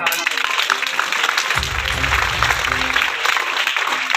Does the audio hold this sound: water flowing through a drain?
no